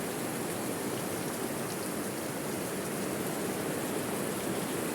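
Heavy rain pouring down in a thunderstorm downpour, a dense, steady, loud hiss of water with no pauses and no voices.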